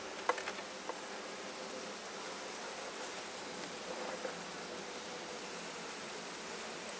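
Honey bees swarm around an open hive during a beekeeping inspection, filling the air with a steady, dense buzzing drone and a few faint knocks near the start.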